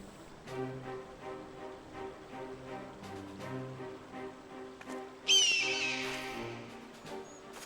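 In Final Fantasy XIV Stormblood, a hawk gives a single sharp, descending screech partway through, rising suddenly over soft, sustained game music and fading out after about a second.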